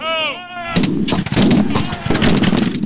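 Cannon fire at an American Civil War reenactment, a sustained deep, loud boom with rumbling roll, preceded by a brief tonal call.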